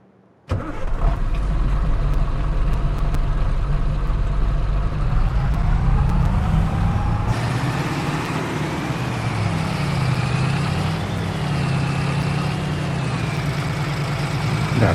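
A truck engine in Farming Simulator 22 starts and settles into a steady, loud, close idle, its low rumbling drone shifting pitch partway through and running alone without talk.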